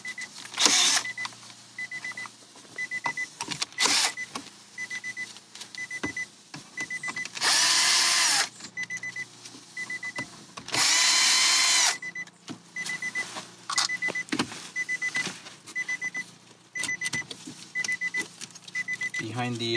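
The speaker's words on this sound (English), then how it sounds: "Remove 2 screws." A power drill spins out two screws from the radio and AC panel of an Infiniti QX50 in two brief, loud whirring bursts, while a person talks steadily and a faint repeating beep sounds in the background.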